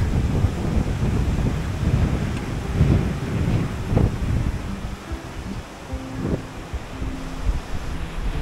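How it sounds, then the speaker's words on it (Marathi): Strong gusting wind roars across an open outdoor spot in rural Konkan, a dense, steady low rumble battering the microphone throughout, with a few swelling gusts and faint tonal hums in the later seconds; no one speaks. "आज खूपच हवा आहे, एकदम तुफान आहे आवाज"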